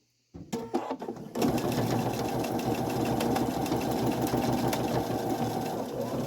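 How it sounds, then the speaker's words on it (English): Sewing machine stitching tulle leaves, a few short starts then a steady fast run of rapid mechanical clatter, close and continuous with no talk. "Take a few little stitches and cut it."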